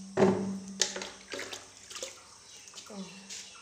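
Water is poured onto flowers, giving a quiet, intermittent splashing and trickling with soft, irregular bursts, while a voice is faintly heard.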